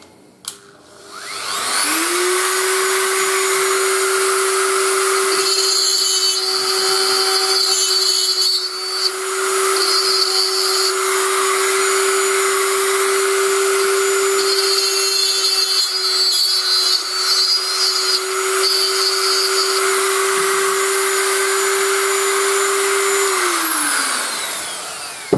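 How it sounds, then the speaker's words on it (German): A small drill boring into a circuit board, a loud sustained whine that spins up, holds steady for about twenty seconds with faint scraping as it cuts, then winds down. "Bei dieser Tätigkeit sollte man natürlich stets aufpassen, dass man nicht durch seine Leiterbahn bohrt."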